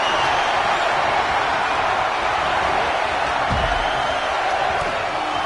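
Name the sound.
arena crowd cheering in WWE 2K25 video game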